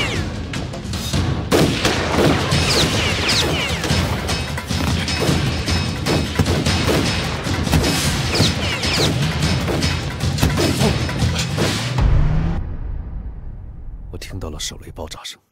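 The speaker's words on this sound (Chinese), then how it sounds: "手雷爆炸声" A hand grenade blast in a Chinese kung fu war film, dense crashing and roaring explosion noise with rapid thuds and debris sustained for about twelve seconds, loud and close, then cutting off abruptly to near silence.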